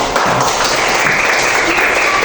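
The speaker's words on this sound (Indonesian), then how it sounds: "silakan dulu kembali tepuk tangan dulu" Steady, dense applause from a classroom audience fills the whole stretch at a loud, even level with no break, as students clap after a group's presentation.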